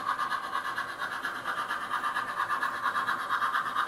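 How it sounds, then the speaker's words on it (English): A model train circles a layout track, a steady continuous running hum with a faint rhythmic clatter throughout, moderately close and heard alone without talk. "Train's coming around."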